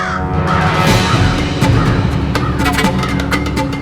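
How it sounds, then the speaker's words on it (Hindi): Crow cawing in a domestic setting, several loud harsh caws close by, repeated in quick succession, with other household sound underneath. "ये कौवा कब से काय काय किए जा रहा है।"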